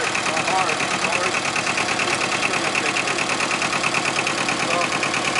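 Steady, loud diesel tractor engine idling close by with an even, continuous chug and a faint knocking texture, with voices talking over it.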